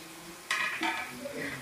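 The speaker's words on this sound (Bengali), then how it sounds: "দেখুন কীরকমভাবে ভাজা হচ্ছে।" Rice flour and onion pakoras fry in hot oil in a kadai, giving a brief burst of sizzling with a couple of scraping stirs and utensil clinks, close and fairly quiet.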